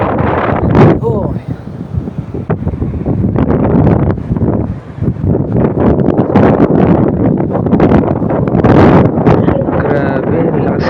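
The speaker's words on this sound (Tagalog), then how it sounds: "Grabe, lakas ng hangin. Lakas pa ng alon." Strong wind buffets the microphone in a loud, continuous roar while waves wash in, on an outing fishing with shrimp bait near the water, with people talking over the noise.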